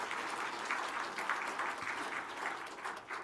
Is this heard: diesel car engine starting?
no